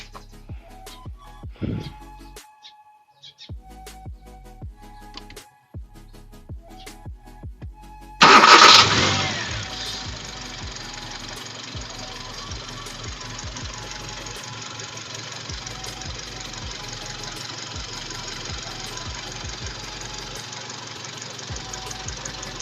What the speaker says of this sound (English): So I'm going to kickstart my engine